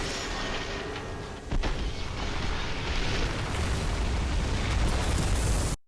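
A blast effect in the video game Outriders: a dense, loud roar that surges about a second and a half in and rumbles on unbroken to the end.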